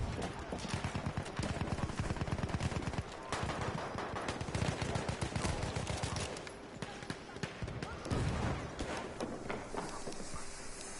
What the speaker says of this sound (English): I'm using a pistol now.